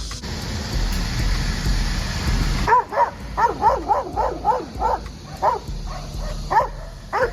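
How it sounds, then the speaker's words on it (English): During bark and alert training, a dog lets out a rhythmic series of about a dozen sharp, close barks. Steady rushing background noise comes before and runs faintly beneath them. "we're just trying to introduce him to bark and alert work"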